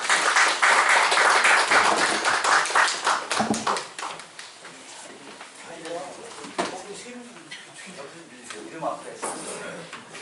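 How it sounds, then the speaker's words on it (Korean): Audience applause at a public debate on a municipal ordinance in Uijeongbu, a dense burst of clapping from a seated crowd that fades after a few seconds into quieter scattered claps, with a speaker talking over it. "힘찬 박수 보내주시기 바랍니다"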